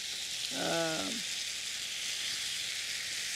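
Stir-fried vegetables with salt sizzle steadily in a pan, a close, even frying hiss throughout with a short tonal sound early on.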